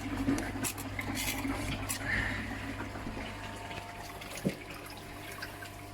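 A garden pond filter system refilling with water after cleaning, heard as a steady low pump hum with running, trickling water and a faint drip, plus one brief knock near the end.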